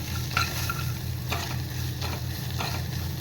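Pinch of asafoetida being stirred in hot ghee for a tempering, a steady soft sizzle with a few brief scraping strokes of the spoon every second or so, close and alone with no voices.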